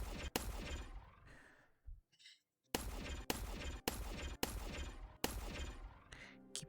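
Gunfire at shooting practice: sharp, loud shots, a couple early, a brief lull, then a rapid run of five or six evenly spaced reports close by.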